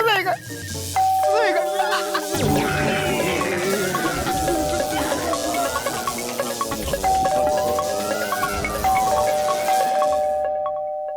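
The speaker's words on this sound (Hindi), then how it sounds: "दरवाजा तो खुला है पर घंटी कौन बजा रहा है?" A doorbell chimes again and again with a bright ding-dong at an open door in a household scene, ringing over lively background music.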